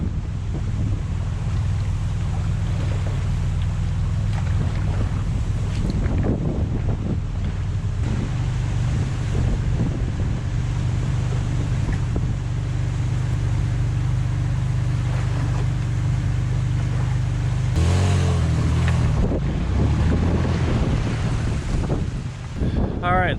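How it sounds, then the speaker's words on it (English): A small Craig Cat boat runs on choppy water, its engine a steady, loud low drone mixed with wind buffeting the microphone and splashing water. The sound continues for over twenty seconds, with a brief surge of noise near the end. "I got the Craig Cat in the water. She's running good."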